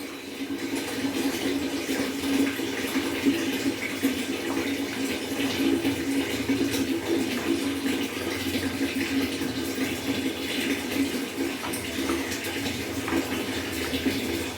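Water runs steadily from a tap while a small child is bathed with soap at home, a continuous close splashing wash throughout.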